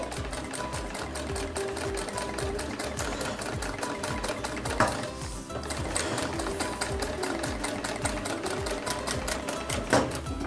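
A sewing machine stitches fabric with long tacking stitches for hemming, a steady rapid mechanical chatter running continuously at close range with no talk.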